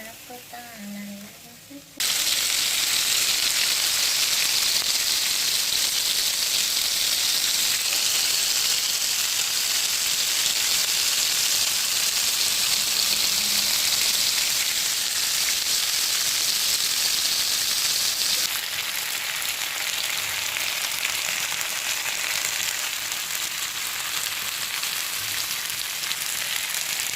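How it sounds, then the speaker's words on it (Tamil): Masala-coated murrel (veeral) fish sizzles steadily in hot oil, a loud, even frying hiss that starts abruptly after a short quiet moment and carries on without a break. "இப்போ நம்ம இதை ஃப்ரை பண்ண போகிறோம்."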